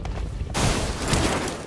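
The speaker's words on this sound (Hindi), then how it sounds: "अब सड़क के उस पार से गोली चली थी" Gunfire in a mobile battle-royale shooter game, a sudden dense burst of shots starting partway in and continuing as a loud, sustained rattle with no talk over it.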